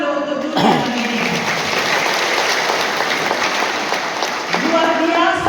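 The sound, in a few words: applause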